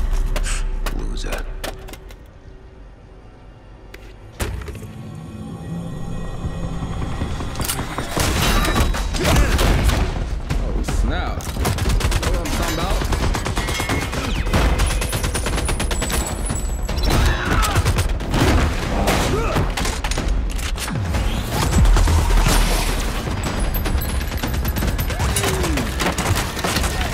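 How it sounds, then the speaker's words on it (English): Rapid gunfire in the Apex Legends cinematic short 'Hero', a dense, continuous roar of shots mixed with heavy effects and booms that runs almost the whole time after a quieter opening, with some voices. "how are you shooting that many?"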